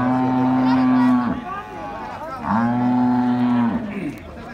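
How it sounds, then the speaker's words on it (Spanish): Cattle at a livestock sale mooing loudly nearby, two long drawn-out moos in a row, each lasting over a second, with no talk over them. "Así es de que están bonitas las vacas"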